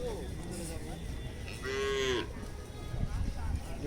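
A single drawn-out cow moo rises over the steady din of a crowded Qurbani cattle market in Uttara Diabari, Dhaka, with general market noise before and after.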